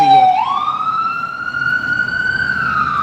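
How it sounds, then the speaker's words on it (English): A passing ambulance siren near a hospital in the Bronx, New York wails loud and close, its tone sweeping up and then holding a long high pitch over low street rumble. "this is an ambulance that's coming past now"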